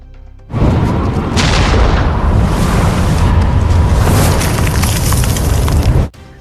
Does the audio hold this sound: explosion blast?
yes